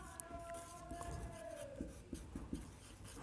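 A marker squeaks and scratches across a board while labelling rabies virus proteins, with faint strokes and a few short taps, quiet and close, with no voices.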